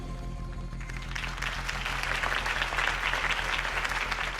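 A crowd breaks into steady, sustained applause after Harvey Dent's campaign speech in the video game Batman: The Telltale Series. The clapping builds about a second in and stays dense and even to the end.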